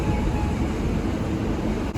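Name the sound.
London Northwestern Railway class 350 train departing Northampton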